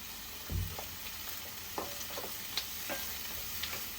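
Bitter gourd and curry leaves frying in a pan, with a steady sizzle and intermittent scraping stirs of a spoon. Close, moderately loud, and with no talk.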